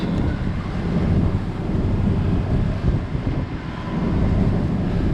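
Wind buffeting a sailboat at anchor, a loud steady low rumble of gusts across the microphone with a faint wash of water beneath, constant throughout with no talking.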